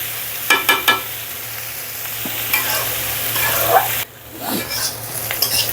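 Bitter gourd frying in oil in a pan, a continuous close sizzle with a few sharp utensil clinks at the start and stirring scrapes, dropping briefly quieter near the end before resuming.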